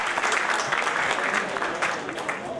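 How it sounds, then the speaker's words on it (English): Steady crowd applause at a Pakistan–US alumni reunion in Karachi, dense overlapping clapping filling the whole clip at moderate level without a break. "So a round of applause for all of you and all of"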